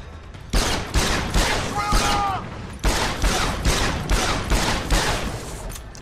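Rapid bursts of gunfire aimed at enemies in Deus Ex: Human Revolution, played on hard difficulty, loud and continuous in repeated volleys with short gaps, plus a brief high electronic tone partway through.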